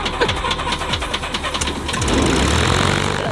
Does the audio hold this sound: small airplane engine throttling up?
yes